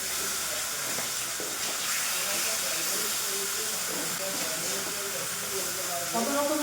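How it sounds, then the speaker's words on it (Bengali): Fish frying in a pan on a home kitchen stove, a continuous loud hissing sizzle with scattered crackles and faint background voices. "এবার মাছ বসিয়েছি, মাছ ভাজা।"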